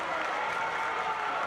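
A high school boys basketball crowd in a gym reacts to a foul, a steady wash of applause and crowd noise with mixed voices throughout.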